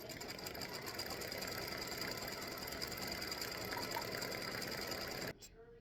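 An embroidery machine stitches a free-standing lace Halloween earring design in green thread, a steady, close mechanical chatter of rapid needle strokes running continuously before cutting off abruptly near the end.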